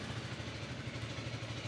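A KTM 250 single-cylinder motorcycle engine, the same unit used in the Duke 250, idles steadily up close with a low throbbing pulse and light mechanical clatter, alone with no talk.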